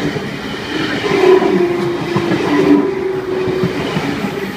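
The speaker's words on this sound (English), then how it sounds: "There's another train approaching" A V-set passenger train in Sydney rumbles in steadily, a low droning hum with faint squealing tones as it rolls toward the platform, no voices.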